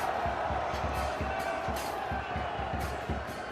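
Crowd noise fills the stands at an NCAA tournament men's soccer match between NC State and Washington, a steady dense roar of many voices heard from a distance.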